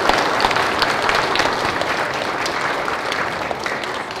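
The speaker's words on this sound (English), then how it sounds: "We'll give them a round of applause." Audience applause at a school Mass, a dense steady clapping from a crowd that holds level throughout, with no talking over it.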